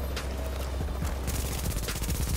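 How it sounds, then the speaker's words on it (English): Sustained gunfire in the video game The Division's Dark Zone, a dense rapid stream of shots under constant background noise, growing busier toward the end. "somebody shot someone, who was it?"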